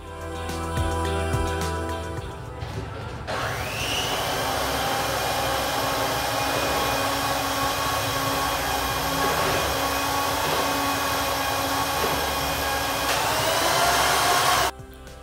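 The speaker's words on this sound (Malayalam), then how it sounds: "എഗ് ബീറ്റർ വെച്ചിട്ട് ബീറ്റ് ചെയ്തെടുത്താൽ മതി." An electric egg beater whips sugar with a pinch of cardamom powder for a milk powder cake, giving a loud, steady motor whir that runs for about eleven seconds before cutting off abruptly.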